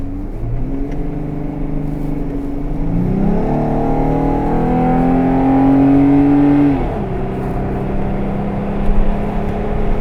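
A Jeep Wrangler JK with a Pedal Commander throttle controller in city mode accelerates onto a highway, its engine climbing steadily through the gears, loud and close from inside the cabin, with brief shift dips.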